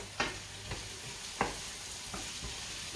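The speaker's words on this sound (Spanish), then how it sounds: "Sofreímos el pimiento." Red and green peppers sautéing in a pan with garlic and parsley for stuffed eggplant: a steady soft sizzle with a few sharp utensil taps and stirs standing out at intervals, close and moderately loud.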